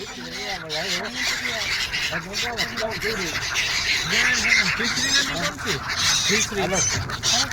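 A noisy flock of birds at the Ganga-Yamuna-Saraswati river confluence being fed gathiya snacks, honking and squawking continuously and loudly up close, with many overlapping calls.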